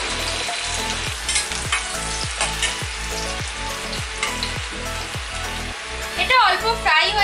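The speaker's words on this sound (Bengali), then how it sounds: "এটা অল্প ফ্রাই হয়ে এসেছে" Onion and carrot frying in a pan for chire polao, a loud continuous sizzle with regular scraping strokes of stirring roughly every half second, close up, ending in a brighter burst of crackle.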